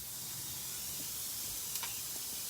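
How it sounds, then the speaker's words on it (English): Diced onion dropped into a hot pan for a mirepoix, giving a steady, faint hissing sizzle that carries on evenly throughout with a couple of small crackles near the end. "So here is 1 onion diced. We're throwing in right into our pan."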